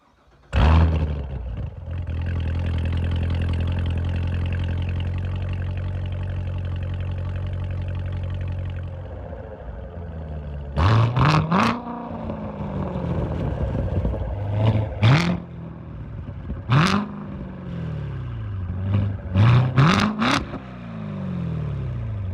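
A yellow Chevrolet Corvette C7 Z06 R Edition with a 659 hp engine and trumpet-shaped exhaust idles with a deep steady rumble, then is blipped through several loud sharp revs that rise and fall back to idle.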